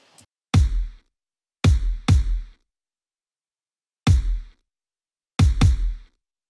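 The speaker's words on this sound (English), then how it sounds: "And this is the main kick for the song." Main kick drum sample from a Bollywood pop production: deep, punchy thumps with a booming low tail, heard alone in a sparse pattern of single and doubled hits separated by silence.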